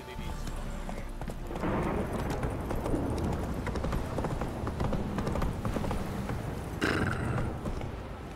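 A horse gallops in the video game The Witcher 3, its hooves pounding in a fast, continuous clip-clop over loud game ambience, with a brief whinny near the end.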